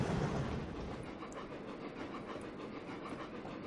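A steady British Railways train rumble on the Settle and Carlisle route in the video game Trainz: A New Era, with faint rhythmic clatter of wheels on rails, continuous and fairly even throughout, with no voices.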